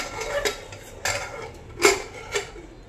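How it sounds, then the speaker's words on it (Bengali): A lid set onto a pressure cooker holding potatoes in turmeric and salt water for chicken biryani: a few separate metallic clanks and clinks, sharp and close, spaced apart, with no talk. "ঢাকনাটা লাগিয়ে দিলাম"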